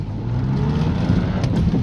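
Honda Civic EK engine running through a new exhaust, a steady, close low rumble with a slight rise in revs over a couple of seconds, no voices.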